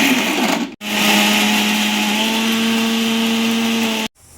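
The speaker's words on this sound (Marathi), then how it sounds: "आता ते मिक्सरला काढून घेऊया." A mixer grinder blends carrot pieces with a loud, steady motor whine that starts abruptly after a short pause, runs unbroken for about three seconds, then cuts off sharply.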